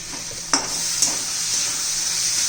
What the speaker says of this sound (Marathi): हे रेड चिली सॉस घालू थोडा ते सर्व व्यवस्थित मिक्स करून घेते